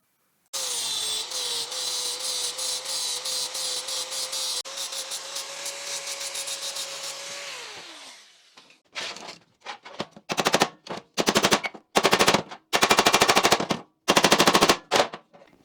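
Angle grinder fitted with a flap disc smoothing welds on a steel collar for a rocket stove, a loud continuous whine for about seven seconds that winds down, followed by several shorter bursts of grinding.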